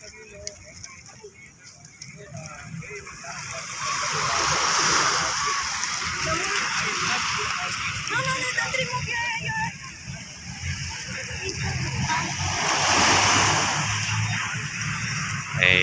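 Waves crash and splash along the Manila Bay shore at Angono, Rizal, a broad, steady surging wash with louder swells rising and falling, while people talk and shout over the water nearby.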